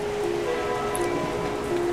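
Steady rain falls across the whole stretch in the video game The Silver Lining, a dense, even patter with no gaps, heard alone and with no voices.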